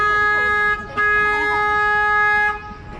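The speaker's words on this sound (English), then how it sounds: "I got a honk horn right here" A car horn sounds in a long steady blast on a San Antonio, Texas street, cutting off briefly and then holding again before fading, loud and close over a low bed of traffic noise.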